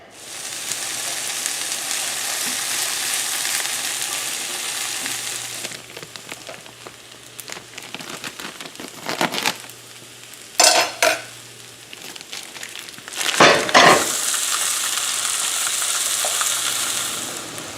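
Cubes of venison searing in a hot pan for a stew, with a loud continuous sizzle interrupted by bursts of stirring and utensil scraping against the pan, and the frying hiss swelling again at the end.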